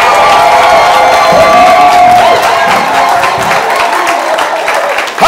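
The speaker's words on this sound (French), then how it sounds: "Acclamez encore le Seigneur." A church congregation applauds and cheers during a sermon, a loud, sustained wash of clapping mixed with crowd voices and whoops, close and filling the space before fading slightly at the end.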